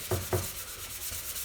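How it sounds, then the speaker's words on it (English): Two quick scraping strokes of sandpaper on wood, followed by softer rubbing, close up and fairly quiet with no voices. "I just want to get all the sanding done"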